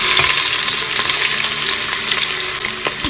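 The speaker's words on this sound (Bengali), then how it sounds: "ভালো করে নেড়ে ভেজে নেব।" Onions stir-frying in hot oil with cinnamon sticks, cardamom and cloves, a loud, dense, continuous sizzle with occasional spoon taps against the pan, close and without talking.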